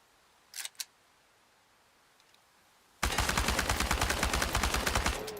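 Gunfire in the Chernobylite video game: a couple of faint clicks, then a sudden loud burst of rapid automatic shots that rattles on steadily for several seconds.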